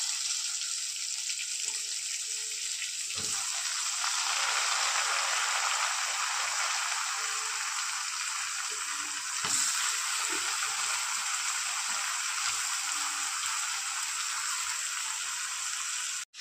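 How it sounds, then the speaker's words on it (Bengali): Onions fry in oil already used for frying potatoes, making a long, steady, close sizzling hiss with faint crackles and occasional soft knocks throughout. "এবার এই আলু ভাজা তেলের মধ্যেই দিয়ে দেবো কিছুটা পেঁয়াজ"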